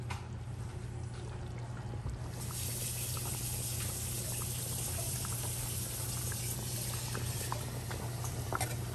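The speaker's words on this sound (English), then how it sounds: "I'm gonna add more hot water." Hot water pours into a pan of Spanish rice, a soft, steady splashing trickle over a low hum, close and faint with no talk.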